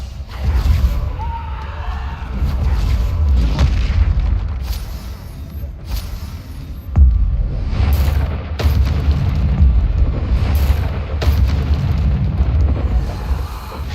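Bombarda explosion spells go off again and again during combat in the Hogwarts Legacy video game, producing loud, deep booming blasts in close succession that fill the whole stretch, with a couple of sharper bursts standing out.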